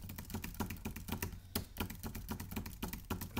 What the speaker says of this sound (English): I'm going to type some gibberish because I'm not much of a typist